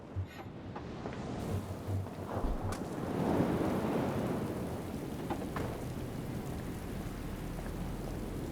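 Rain and distant thunder from the video game Resident Evil 0, a steady hiss of rainfall with a low rumbling roll building midway, fairly quiet and without speech.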